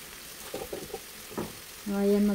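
Beef menudo stew sizzling in a pan as it is stirred, with a few soft scraping strokes followed by a louder burst of frying near the end; a voice speaks briefly.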